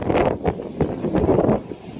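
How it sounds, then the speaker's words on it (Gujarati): Strong monsoon wind gusts across Girnar hill, buffeting the microphone in loud, uneven rushes of low roaring noise that rise and fall throughout. "પવન તો ફૂકું મારે તે."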